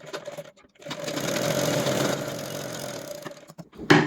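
An electric sewing machine runs a steady burst of stitching along a blouse side seam for a few seconds, starting and stopping with brief pauses and clicks, close and clear with no talking.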